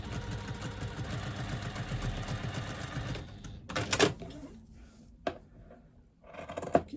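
A sewing machine stitches fabric scraps with a 1/4 inch seam allowance, a rapid, steady mechanical whirr lasting about three seconds, then a few quieter clicks and handling sounds.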